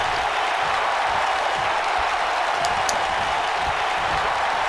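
A WWE 2K19 arena crowd in Oklahoma City cheering and applauding steadily, a broad, even roar of many voices that continues without pause.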